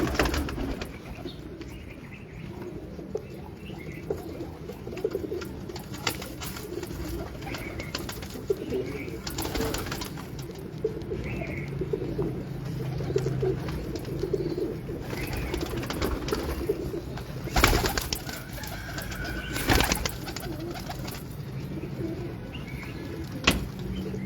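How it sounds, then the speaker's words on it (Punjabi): Pigeons cooing softly in a loft, low repeated coos under steady background noise with occasional wing flutters and faint bumps. "ਕਬੂਤਰ ਇਹ ਕਿਹੜੇ ਨੇ ਲਾਕੇ?"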